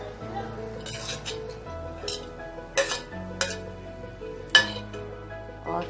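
Potatoes and bell pepper going into a pan for a quick potato-bread snack, with scattered clinks and scrapes of utensils against cookware and a few sharper knocks, close and moderately loud, no talking.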